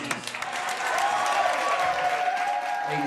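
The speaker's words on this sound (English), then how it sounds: "I do want you to give a tremendous applause to our director" A studio audience applauds for the director on a sitcom set, sustained clapping swelling after a few scattered claps and holding steady, with some voices underneath.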